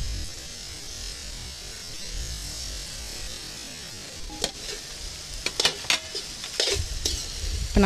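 Onions and red chili seeds sauté in a pan in a village kitchen, a continuous close sizzle that gives way to several sharp scraping stirs and utensil clicks near the end.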